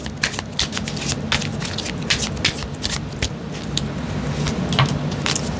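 An oracle deck is shuffled and cards are pulled, producing continuous close papery riffles and soft slaps with repeated crisp card flicks throughout, with no voices.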